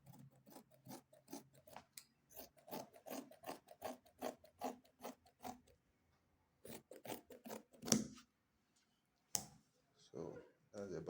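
Scissors trim cut kembe fabric in quick rhythmic snips and rasps, close and quiet, with a pause and a few more cuts near the end. A voice speaks softly alongside the cutting.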